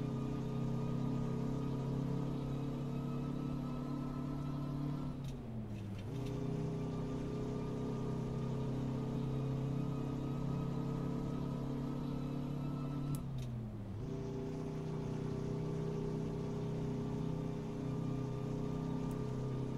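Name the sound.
truck with Detroit engine driving, American Truck Simulator video game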